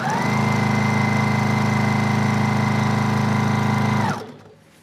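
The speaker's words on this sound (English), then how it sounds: "I'm just sewing them now in groups of 2" A sewing machine stitches quilt fabric strips together in pairs, a steady loud mechanical whir with a rapid even rhythm that runs for about four seconds and then stops abruptly, heard close with no talking.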